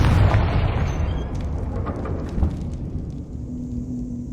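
A Confringo blasting spell explosion in Hogwarts Legacy, opening with a heavy, loud low boom that rolls on like thunder and slowly decays into a rumbling tail with faint crackles.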